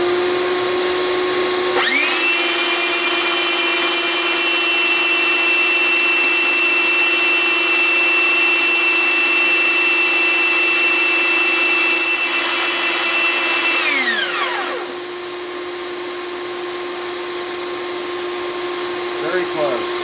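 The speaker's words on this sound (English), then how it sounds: "hold it here until I grind the saddle down to the vise there" A bone guitar saddle being ground down on a power grinder, a loud steady whine that starts abruptly, runs for about twelve seconds and spins down, leaving a steady hum behind.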